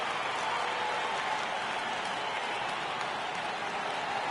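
A baseball stadium crowd of over 39,000 in MLB The Show 18 keeps up a steady, dense roar of cheering and clapping, broad and distant-sounding, with no clear breaks.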